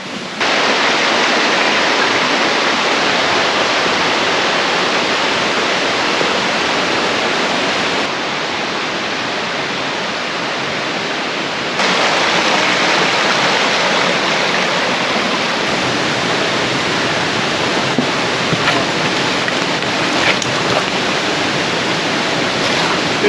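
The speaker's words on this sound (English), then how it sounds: "just the running water" Loud, steady rush of a valley stream, continuous broadband noise with no talking, dipping slightly in level midway.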